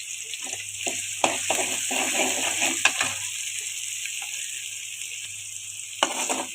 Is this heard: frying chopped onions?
yes